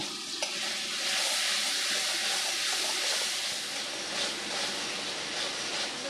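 Fish curry spices with turmeric and salt are sautéed for a Bengali eel mustard curry, giving a steady, close hissing sizzle with faint stirring scrapes that runs unbroken from start to finish.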